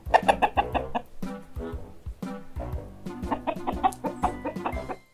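Chickens cluck in repeated bursts of short, close calls, with a few brief pauses between flurries; no talking is heard.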